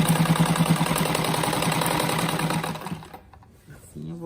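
A sewing machine stitches small fabric scraps for a patchwork runner, its needle running in a fast, close, steady rattle for about three seconds before stopping, with a brief quiet gap after.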